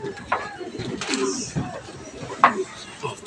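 Racing pigeons coo softly and flutter at a loft during a fun race, with scattered bird calls close by under someone talking.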